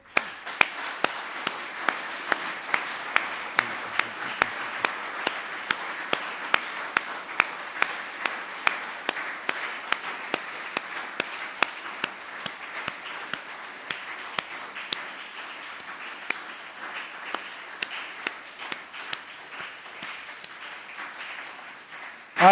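A church congregation claps together for an extended burst of applause at an evangelical service, dense and steady crackling hands throughout, easing slightly toward the end with no talking.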